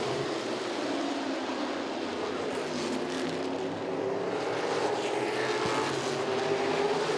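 Modified race cars battling on the oval at Southside Speedway, a steady blended engine drone with slowly rising and falling pitch as the pack circulates at a moderate distance, with no talk.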